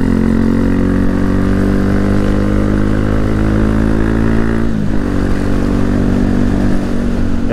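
Honda CB Twister 250 motorcycle riding along, engine roaring loud and steady with a brief dip in tone midway, with no talk.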